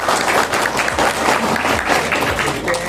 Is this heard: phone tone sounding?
no